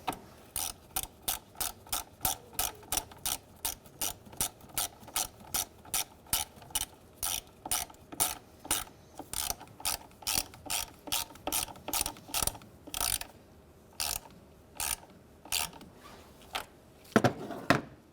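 A ratchet tightening the negative battery terminal on a Honda Element, a long run of quick, evenly spaced clicks that pause briefly and resume, close and alone without speech.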